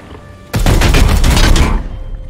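Gunfire against an enemy in the Warhammer 40k: Chaos Gate - Daemonhunters video game erupts suddenly as a loud, dense burst of rapid shots, holding for over a second before tapering into a reverberant tail.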